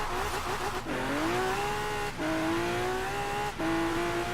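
Lamborghini Aventador J racecar in Forza Horizon 4, its engine revving high and steady, interrupted by three brief gaps as gears shift, each followed by a rising, sustained whine.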